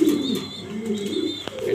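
A breeding pigeon in a loft gives soft, repeated throaty coos close to the microphone, a steady rolling series of low calls with no talking.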